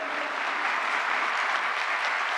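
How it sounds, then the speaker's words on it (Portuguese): Steady applause from a ceremony audience honoring Brazilian students, a dense, even wash of many hands clapping, moderately distant and without talk. "pedir uma salva de palmas aos nossos estudantes brasileiros aqui presentes"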